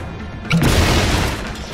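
A sudden loud explosion in the video game SteamWorld Heist bursts in and rumbles on for about a second before fading, close and full.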